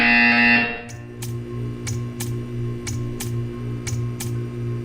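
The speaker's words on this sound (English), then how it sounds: "You will hear a buzzer." Repeated electronic buzzer tones from the Portal 2 video game sound in a steady rhythm of about seven short pulses, following a louder opening tone, over a constant low hum.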